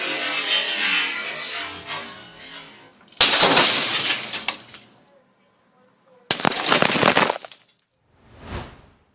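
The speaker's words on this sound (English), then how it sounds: "We're going to be testing the carbide tip glass breaker. We have some tempered glass." A carbide-tip glass breaker on a folding knife strikes tempered glass, setting off bursts of crunching, crackling shatter with falling fragments, in several loud separate episodes divided by silence and ending on a brief softer swish.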